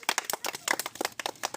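Sharp, close claps ring out in an uneven, energetic rhythm, roughly a dozen distinct strikes cheering on a person named Bipini during a timed biscuit-eating challenge, with no talking over them.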